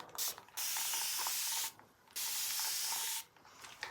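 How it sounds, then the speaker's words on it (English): Two bursts of a spray bottle misting water, each a steady hiss lasting over a second, close by, with a short pause between them. "I've got water in my spray bottle"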